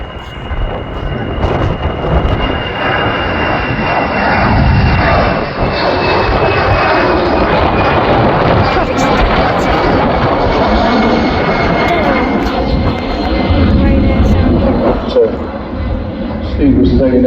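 An Airbus A319 airliner bound for Brussels takes off early into a strong headwind at Manchester Airport, its jet engines roaring loud and steady throughout, with wind buffeting the microphone and a voice talking now and then.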